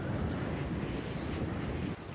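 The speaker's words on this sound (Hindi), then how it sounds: "एक दिन बहुत जोरदार की बारिश हो रही थी" Heavy, steady rain pouring down with a low rumbling undertone like distant thunder, no voices present.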